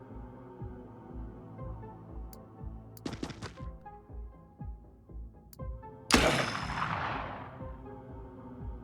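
Gunfire in the PC video game Xenonauts 2: a quick cluster of sharp shots, then a single loud blast with a long ringing decay, set over a low steady hum and soft background tones.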